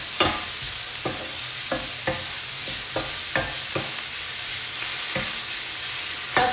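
Onions sweating in a hot pan give a steady loud sizzle, broken by repeated scraping strokes as they are stirred, with no talking.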